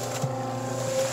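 Mortar being mixed with added water gives a brief splash inside a mixer over a steady tonal motor drone. The sound is short and close, with no voices.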